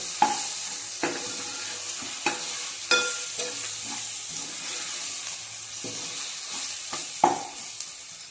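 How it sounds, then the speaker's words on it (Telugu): Onions fry in a pan with a soft, steady sizzle while a spoon scrapes and taps the pan in irregular strokes, close by and fairly quiet, no speech. "ఇది ఇలా కలర్ వచ్చేదాకా ఆనియన్ వేయించుకోవాలి ఫ్రెండ్స్ మంచిగా"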